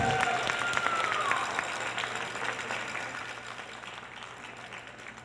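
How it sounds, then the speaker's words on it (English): Steady audience applause fills a pageant awards broadcast, slowly fading from moderate to softer, with a faint tone and voices in the background. "Let's keep the round of applause going for them,"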